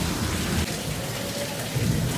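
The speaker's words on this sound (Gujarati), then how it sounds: "વરસાદે તો એનું પિક્ચર ચાલુ કરી દીધું છે" Heavy rain pours steadily, loud and close, under a deep thunder rumble that swells and fades, with no voices.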